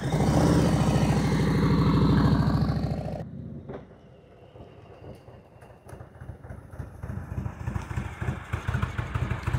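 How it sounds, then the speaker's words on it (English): An Indian Roadmaster motorcycle engine runs close by, loud at first, then dropping to a steady low idle with uneven pulsing beats, during slow-speed riding practice. "That Roadmaster sounds good."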